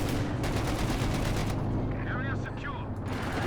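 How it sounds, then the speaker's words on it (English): A tank cannon fires in a World War II tank video game and knocks out a Panzer IV, a loud cluster of blasts and rumbling impacts in the opening seconds, followed by a lingering rumble with other battle noise and a voice talking over it. "A penetrating shot here will kill that Panzer IV"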